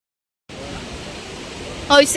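The Tungabhadra river flows with a steady, broad rush of water starting after a brief silence, heard fairly loud and close, with a voice briefly rising over it near the end.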